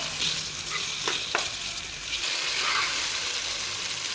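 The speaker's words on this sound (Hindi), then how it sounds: "मैंने 3 से 4 मिनट इसको कीमे को पकाया, भुना है इसको।" Minced meat and onion fry in a pan with a steady, close hiss of sizzling, broken by a few brief scraping stirs.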